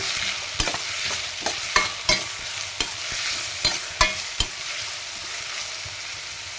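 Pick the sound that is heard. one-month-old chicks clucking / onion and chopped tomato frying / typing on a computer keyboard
onion and chopped tomato frying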